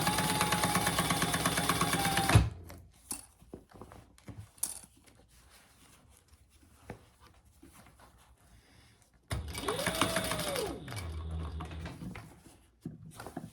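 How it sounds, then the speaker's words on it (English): A sewing machine back stitches along the side of a fabric front pocket on a front panel, with loud bursts of mechanical whirring at the start and end and a quieter stretch of light handling clicks between. "so I just back stitch over the side of that front pocket a little."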